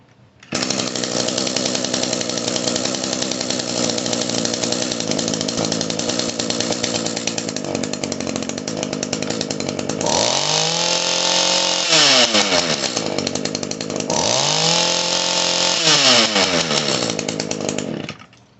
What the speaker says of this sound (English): So we're going to bring the idle down real quick.